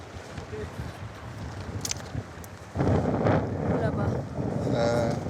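Strong, rising wind on the open Changtang plateau buffets the microphone with a steady roar that surges louder midway and stays gusty, with faint voices beneath.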